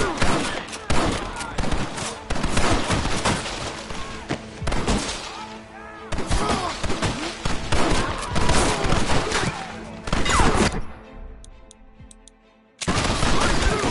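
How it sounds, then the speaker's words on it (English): Gatling gun in the Western game Red Dead Redemption firing long, loud, rapid bursts of rattling shots, broken by a few short pauses and one near-silent gap toward the end before the firing resumes. "What about the Gatling gun?"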